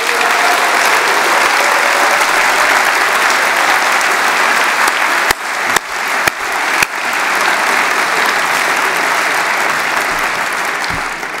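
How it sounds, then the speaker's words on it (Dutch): A political party congress audience gives loud, sustained applause for its European election team, a dense continuous wash of clapping with a few sharp knocks partway through. "ik vraag jullie allereerst nu een ongelooflijk applaus voor ons Europese team"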